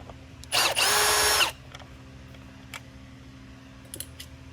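Power drill removing screws from an Oreck XL 3500HH upright vacuum during teardown: one loud, steady whir of about a second, followed by faint clicks and handling noises.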